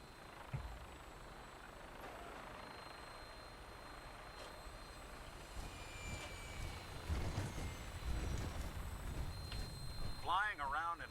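A 200-year-old aircraft flying in Fallout 4, a steady low engine drone that builds slightly toward the end, with voices talking over it.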